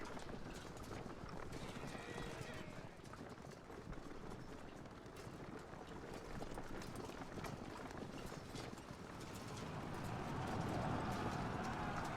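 Cavalry hooves thunder in Medieval: Total War, a dense clip-clop rumble of many horses galloping together, continuous and swelling slightly louder toward the end, with a voice talking faintly underneath.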